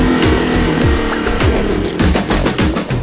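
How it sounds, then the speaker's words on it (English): An SRT Viper V10 engine rated at 645 horsepower roars under test as it is pushed toward redline, a loud continuous close-up engine sound with rapid rises and falls in revs and no talking. "The team pushes the engine to redline, individually testing each Viper engine, ensuring it's ready for maximum output."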